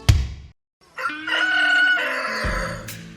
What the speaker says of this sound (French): Après le chant du coq,